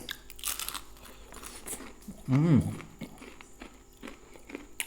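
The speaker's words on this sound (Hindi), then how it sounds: "एकदम कुरकुरा।" Crisp crunching and biting while eating Indian fried chicken and puri served with butter paneer, close to the mouth and moderately loud, with a short burst of louder chewing midway and faint background voices.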